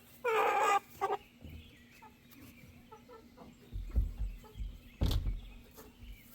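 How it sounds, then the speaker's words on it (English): A rooster in a backyard flock gives a short, loud call near the microphone, followed by softer clucks and scattered rustling and thumps nearby. "He's a rooster too."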